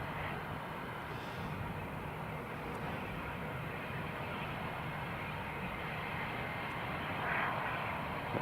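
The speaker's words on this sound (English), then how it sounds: "That's a KLM airborne." A KLM airliner takes off from Newcastle International Airport, a steady distant broadband jet roar that swells slightly toward the end.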